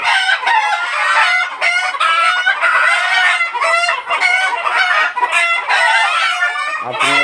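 Egyptian Fayoumi chickens on a farm cluck and squawk in a loud, continuous chorus of overlapping calls close by, rising in agitated bursts with no pauses.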